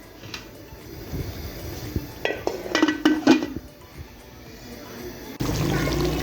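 Metal lid set onto a cooking pot of beef korma, with a few sharp clinks and clatters of metal cookware in a kitchen, followed by a steady low hiss, no talk.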